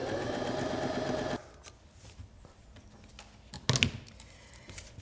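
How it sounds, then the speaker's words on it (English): A sewing machine runs in a fast, steady burst while a paw pad is stitched onto the bottom of a toy's leg, then stops, followed by quiet handling, rustling and a couple of clicks. "because we're sewing that paw pad to the bottom of his leg"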